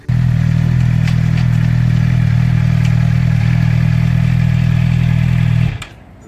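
A Suzuki GSX motorcycle engine idling nearby, a loud steady low hum with faint clatter, holding evenly for several seconds before cutting off abruptly near the end.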